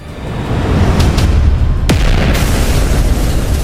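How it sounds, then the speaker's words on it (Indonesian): A huge explosion rumbles under a constant roar on a battlefield front line, then a second sharp blast crashes through at close range, with heavy low booming continuing afterward. "Dua ledakan besar terjadi di barisan depan."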